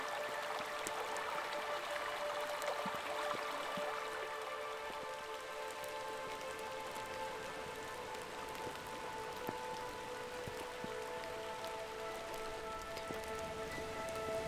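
Heavy, steady rain falls on a forest in the Great Smoky Mountains, a dense, continuous hiss and patter with scattered close drips, unbroken for the whole stretch and no voices.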